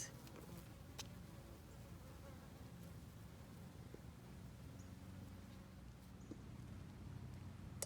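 Insects hum steadily in a zone 8 garden with dwarf crepe myrtles, a faint, continuous low buzz with a few scattered small ticks and no voices.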